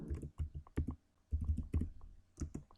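Typing on a computer keyboard, short clusters of crisp key taps separated by brief pauses, close and clear with no talk over them.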